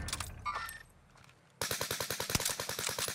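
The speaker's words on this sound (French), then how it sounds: "Ça tire dessus, là." Rapid automatic gunfire in the Warzone Pacific video game, a sudden loud burst of evenly spaced shots after a brief stretch of quieter game ambience with distant shots.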